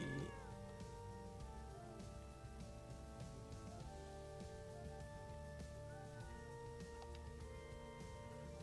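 Cartoonish cat meows from the video game Hidden Cats in Spooky Village, repeated several times over a steady bed of spooky background music, clear and fairly loud throughout.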